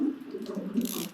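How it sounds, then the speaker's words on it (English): A bathtub faucet in the video game What Remains of Edith Finch runs water in a steady, close, rushing stream with a slight gurgle, heard alone for about a second. "turn the faucet on or something?"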